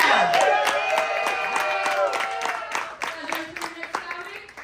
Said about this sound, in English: Clap it up for yourselves for being here.